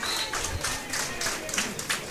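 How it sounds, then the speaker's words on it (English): A crowd at an under-20 hurling championship final claps steadily as a substitute comes onto the field, giving an even, moderately distant patter of applause. "he gets a well-deserved round of applause"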